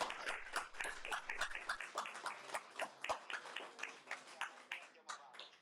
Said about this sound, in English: as you hear, they're applauding here